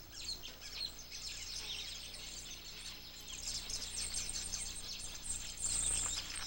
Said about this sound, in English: There is a weaver bird colony in a tree close to the chief's hut, a sign of good fortune.